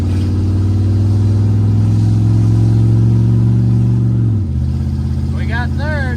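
A Chevrolet Camaro Z28 engine drones loud and close, its pitch rising steadily through a gear, then dropping at a shift before climbing again, with voices talking over it.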